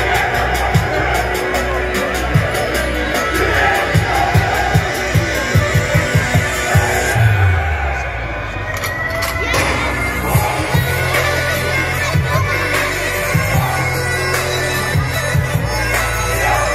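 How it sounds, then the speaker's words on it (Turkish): A crowd at an event applauds loudly for the mothers, steady dense clapping with some cheering running throughout, while a voice speaks over it. "Kocaman bir alkış gelsin"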